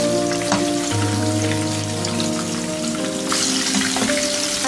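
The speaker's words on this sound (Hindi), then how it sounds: "साइडें तब्दील करते रहेंगे ताकि हर तरफ से अच्छे से गोल्डन फ्राई हो जाए।" Chicken snacks deep-frying in hot oil until golden, giving a steady, dense sizzle and bubbling crackle, close and continuous, with faint background tones and no talking.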